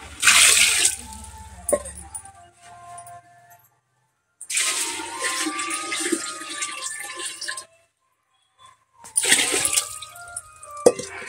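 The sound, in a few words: water poured into cooking pot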